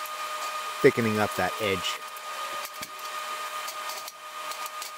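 Wire welding lays a second pass onto the edge of a cast iron anvil, a steady, close, broadband hiss that runs throughout while someone briefly talks over it.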